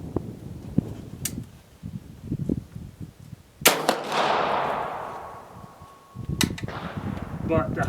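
A Pedersoli Sharps rifle fires a smokeless load with one loud, sharp report at mid-clip, followed by a long decaying echo; a person talks before and after the shot.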